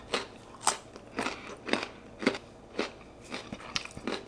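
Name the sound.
crunching and chewing raw carrots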